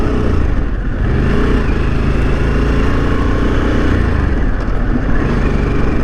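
A 2021 Harley-Davidson Sportster S on the road, its engine droning loud and steady with wind rush throughout.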